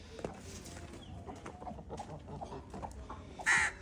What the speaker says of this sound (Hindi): ये मुर्गी भी कुड़क थी